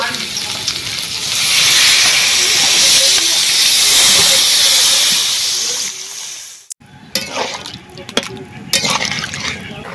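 Loud hissing sizzle and rising steam as water is poured onto a ground paste of cumin, fennel, coriander and garam masala in a hot pan for a snail and papaya curry, easing off after several seconds into scattered stirring and bubbling.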